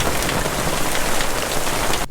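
Steady rain falls in a dense, even hiss that holds at one level for about two seconds before cutting off abruptly.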